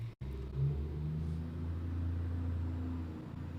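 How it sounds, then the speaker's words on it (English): A massive truck passes outside on a residential street, a low rumbling engine drone that holds steadily for several seconds at a moderate distance, muffled as if heard from indoors. "there's a massive truck driving by me right now."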